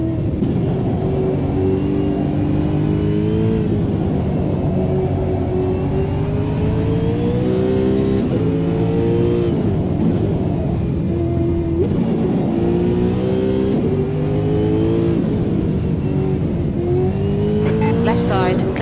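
Brabham race car in the Automobilista 2 sim, its engine droning and revving steadily throughout with pitch rising and falling through gear changes, while a voice talks over it the whole time.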